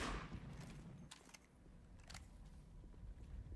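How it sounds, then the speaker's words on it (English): Gunfire from Enemy Front multiplayer, faint distant cracks and short bursts scattered over a low rumbling backdrop, quiet and brief. "we got gun sounds now"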